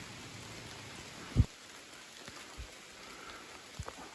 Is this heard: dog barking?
no